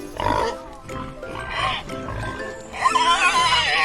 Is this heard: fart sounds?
no